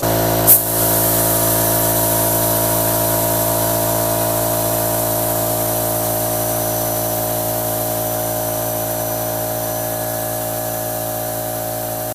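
Spray gun painting parts of a Citroën Méhari, a steady close hiss of spraying that runs unbroken for about twelve seconds after a brief click at the start, with a low tonal hum underneath.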